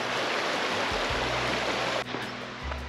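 A river rushes beside a forest campsite in the French Alps, a loud steady broadband water roar that fills the whole stretch with only a slight dip near the end.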